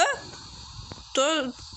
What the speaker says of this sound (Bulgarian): Бе, кучета, махайте се,